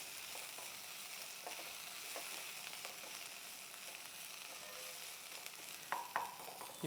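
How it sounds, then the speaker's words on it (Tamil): Ginger and garlic sauté in a hot pan with a steady, close sizzle and crackle, broken by a few sharper stirring scrapes near the end. "அந்த இஞ்சி பூண்டு வாசம் வர வரைக்கும் நல்லா வணக்கலாம்"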